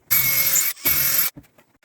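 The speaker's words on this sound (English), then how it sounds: "now we're gonna pre-drill our screw holes to connect the back support to the" A power drill pre-drills screw holes through wood to join a garden chair's back support to its armrests, in two loud, steady whirring bursts with a short gap between them, followed by faint clicks and handling noise.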